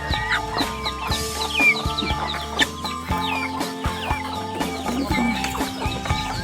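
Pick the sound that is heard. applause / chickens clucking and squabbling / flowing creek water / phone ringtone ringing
chickens clucking and squabbling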